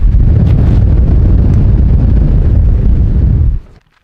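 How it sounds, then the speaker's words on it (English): Strong wind at Badlands National Park buffets the microphone as a loud, continuous low roar that cuts off abruptly near the end, no voices. "You could even feel the wind up here. It's a nice breeze. Pretty intense."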